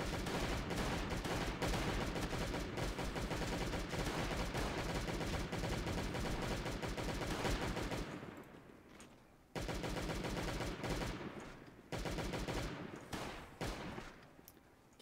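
Rapid bursts of gunfire in the Last Day on Earth mobile game during a Halloween event, loud and sustained with brief pauses, then resuming in shorter volleys.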